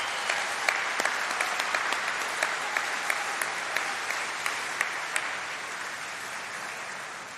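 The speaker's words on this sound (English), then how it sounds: "Let's give them a round of applause." An audience at a university degree ceremony applauds in a large hall, a continuous wash of clapping with a few sharper nearby claps standing out, fading slightly toward the end.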